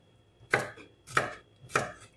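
Garlic being chopped finely with a knife on a board: three separate, crisp blade strikes spaced about half a second apart, close and moderately loud, with no voices.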